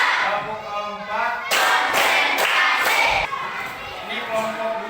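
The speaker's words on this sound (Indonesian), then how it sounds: "Tepuk 1, tepuk 2, tepuk 3, tepuk 4." A group of schoolchildren claps in a few sharp, counted bursts, a handful of loud synchronized claps separated by short pauses, with children's voices chattering around them in a classroom.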